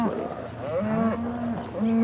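Cattle on a drive down a road, several cows mooing in long, overlapping lowing calls one after another, close and loud over a steady outdoor background.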